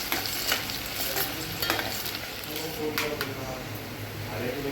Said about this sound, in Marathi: त्या लाल होईपर्यंत परतत राहायचं